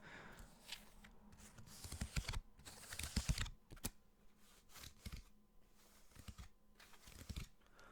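Pokemon cards being handled close up as ASMR triggers, quiet tapping, clicking and shuffling in irregular bursts with soft rustles between.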